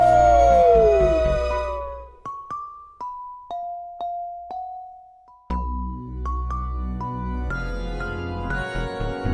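A singing voice imitates a werewolf's howl in a children's Halloween song, with drawn-out melodic 'ow' cries sliding over bright musical accompaniment and chime-like notes, loud and close.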